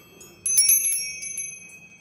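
A shop door bell, the 'bell of happiness', rings once with a bright metallic strike and then a shimmering tone that fades over about a second and a half, close and alone.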